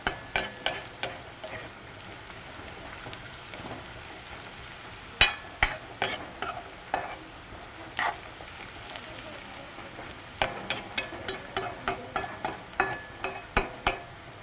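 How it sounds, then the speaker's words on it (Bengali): Ginger, garlic, green chili and onion frying in a pan, a faint background sizzle broken by repeated sharp scraping and clinking of a spatula stirring against the metal, coming in irregular bursts. "আদা, নহৰু, জলকীয়া আৰু পিঁয়াজ মই ফ্ৰাই কৰি আছোঁ।"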